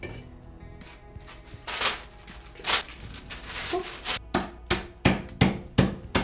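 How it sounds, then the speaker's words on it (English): Biscoff biscuits are crushed inside a plastic bag, with crinkling rustles followed by a run of regular, firm thumps and crunches that speed into a steady beat, close and loud, with no voices. "What I'm going to do is crush these biscuits up in a plastic bag to be sprinkled on top."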